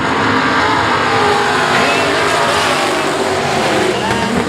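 A field of race cars roars off at the green flag, a loud sustained engine blare from a pack of cars with a commentator talking over it.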